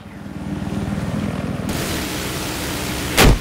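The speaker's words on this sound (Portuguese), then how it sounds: "Helicóptero inimigo." Enemy helicopter in the Battlefield 4 video game, a steady loud rotor and engine drone that shifts in tone partway through, with a brief louder burst near the end.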